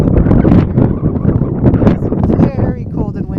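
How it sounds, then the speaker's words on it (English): Strong wind buffets the microphone in loud, continuous gusts on a cold farm, with a voice speaking underneath. "It's very cold and windy out here."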